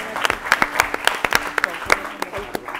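A quiz-show audience claps for a competing school team, a steady patter of hands with sharper individual claps poking through and a voice speaking over it.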